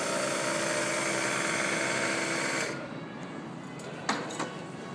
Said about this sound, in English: The pump is running just to fill the tank on it.